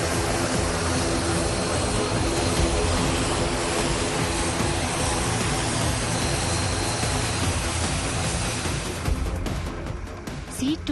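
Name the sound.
C-295 military transport aircraft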